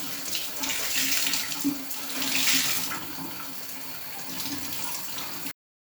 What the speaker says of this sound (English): Now it could take a few minutes for the water to run